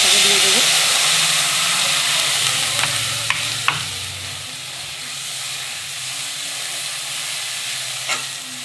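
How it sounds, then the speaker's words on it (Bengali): Water poured into hot oil already crackling with tempering spices while cooking shorshe ilish, a loud sizzling hiss that starts strong and settles into a steady seething bubble, with a few clinks of utensils. "এবার তেলের মধ্যে আমি জলটাকে দিয়ে দেবো"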